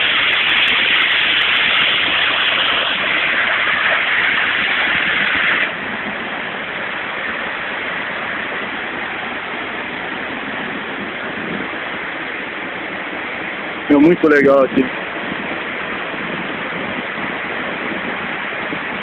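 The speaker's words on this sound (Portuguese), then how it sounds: "Olha o som dessa cachoeira." The waterfall at Cachoeira do Evilson in Taquaruçu gives a loud, steady rushing roar of falling water, unbroken throughout, with a brief spoken remark partway through.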